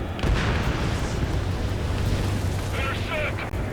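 Missile launch in the Ace Combat 7 video game, a sustained roaring whoosh with rumbling low end that runs loud and steady through the moment, with a brief higher hiss near the end.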